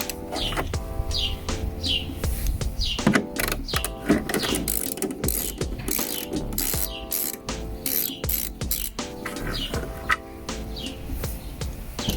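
A ratchet loosens the taillight fasteners on a Nissan Xterra, producing repeated close bursts of rapid clicking with short pauses between turns, over faint background music.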